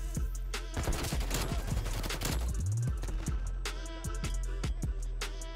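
Rapid bursts of Krig 6 assault rifle fire in the Black Ops Cold War game, loud and sustained across the whole stretch, with dense overlapping shots and brief pauses between strings of fire.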